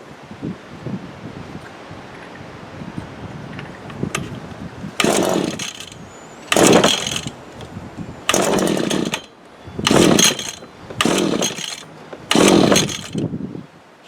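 A 22-year-old Cub Cadet ST23 26cc string trimmer's two-stroke engine is pulled repeatedly, giving about six loud, rasping bursts that sputter briefly without catching, with quiet pauses between pulls.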